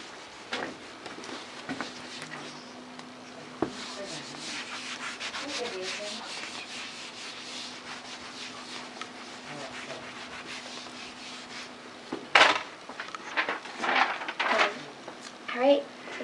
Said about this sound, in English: We're just going to erase this part.